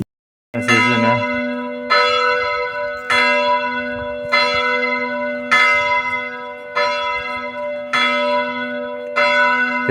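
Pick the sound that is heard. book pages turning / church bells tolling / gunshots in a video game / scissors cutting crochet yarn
church bells tolling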